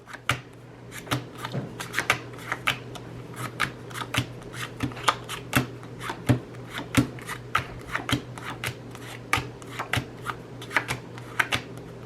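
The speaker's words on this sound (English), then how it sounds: "And then I would just simply go through the cards." Playing cards are dealt one at a time from a deck in a run of crisp, evenly spaced flicks and snaps, close up and fairly quiet over a low steady hum.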